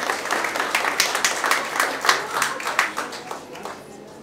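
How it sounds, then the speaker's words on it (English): Audience applause at a company's 20th anniversary gathering, a dense patter of many hands clapping steadily for about four seconds at moderate loudness, with no talking over it. "Can we get a round of applause for that?"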